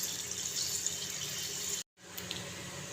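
Water coming to a boil in a covered pot while cooking aloo besan sabzi, a steady broadband bubbling hiss that cuts out for a moment and then resumes, heard alone without talk.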